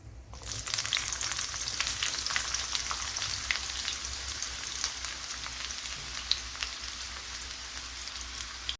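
Chopped onion frying in coconut oil with mustard seeds and fenugreek gives a continuous crackling sizzle with scattered pops. It is steady and close, with no voices over it.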